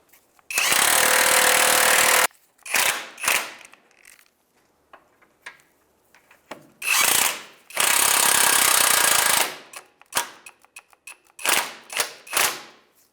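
Close, loud bursts from a power tool, likely an impact gun, snugging the engine cradle bolts on a 2003-2011 Honda Element: two long sustained runs of about two seconds each, with shorter rattling bursts and brief ratcheting between them.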